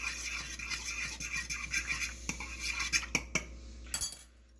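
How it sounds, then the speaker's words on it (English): Eggs being whipped in a pan with a utensil: rapid scraping and clinking against the metal, ending in a few sharper taps before the noise stops. "You keep whipping and whipping and whipping."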